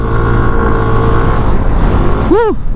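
A Yamaha NMAX Techmax scooter engine, ridden near Kaybiang Tunnel, holds a loud steady drone, then gives a quick rising-and-falling rev right at the end.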